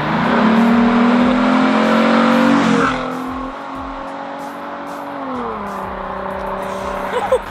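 A loud tuned Ford Mustang engine roars and revs hard, then drops to a lower rumbling idle with pitch shifts, close by and without talk.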